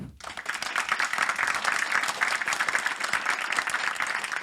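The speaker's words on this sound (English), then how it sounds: "It has been a wonderful panel, and we can give them an applause." An audience at a pharma, biotech and medtech conference applauds a panel: a thick, steady wash of many hands clapping, sustained and even throughout, with no speech over it.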